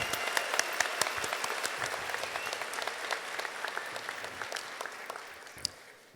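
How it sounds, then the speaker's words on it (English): Steady applause from a large crowd at a college commencement ceremony, dense clapping that holds throughout with no talking over it. "Let's give all of our award recipients another big round of applause."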